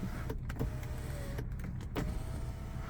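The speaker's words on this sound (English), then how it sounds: "a full sunroof that is controlled via this panel here. I can tilt it up," A small electric motor whirs in short bursts as the sunroof of a 2013 Toyota RAV4 Limited tilts open, quiet and close inside the cabin.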